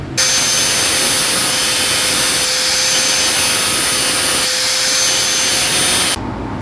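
An angle grinder smooths a welded motorcycle clutch part, giving a loud, steady high whine that starts abruptly, runs about six seconds without pause and then cuts off.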